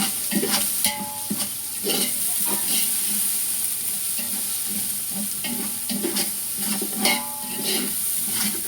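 Chicken biryani masala sautéing in a pot over a gas flame, with a steady sizzle and repeated stirring scrapes at an irregular rhythm, close and moderately loud.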